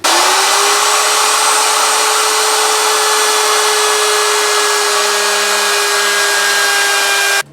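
Router fitted with a bearing bit cutting the wood of a guitar neck, a loud steady high whine held for about seven seconds, then a pitch shift and abrupt stop.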